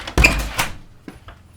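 Kitchen door opening and closing as someone walks in from the backyard, a loud close thump and rattle followed by a softer knock and fainter clicks as it settles.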